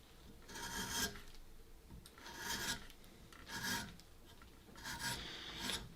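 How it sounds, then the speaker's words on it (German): A sharp carving iron cuts across the grain of wood while a puppet head is shaped, making four rhythmic rasping strokes, each swelling and fading, close and fairly quiet. "Eisen ist recht scharf, kann ich auch mal ein bisschen gegen die Faser oder quer zur Faser schneiden."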